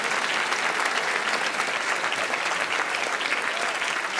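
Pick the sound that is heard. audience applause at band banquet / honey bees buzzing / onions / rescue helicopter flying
audience applause at band banquet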